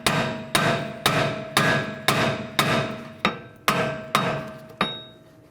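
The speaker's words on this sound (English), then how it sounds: "Sometimes it's easier just taking a hammer and giving it a tap." A hammer taps the rear wheel hub of a 2004–2008 Nissan Maxima during a hub bearing replacement, striking about ten times at a steady rhythm. Each sharp metallic clang rings and decays before the next hit, loud and close with no voices.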